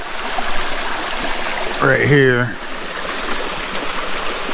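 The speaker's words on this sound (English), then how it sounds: "Got a couple little double-decker waterfalls there. Nice little creek flowing through here" A small creek flows over little double-decker waterfalls, making a steady, close rushing wash that continues throughout, with someone speaking briefly in the middle.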